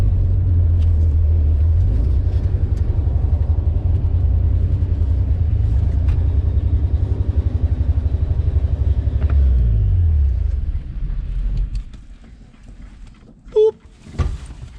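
A 1961 Chevrolet Impala 4-door hardtop, long abandoned and just revived, climbs a hill with a loud, steady low engine rumble that strains and then drops away near the end, followed by quieter sounds.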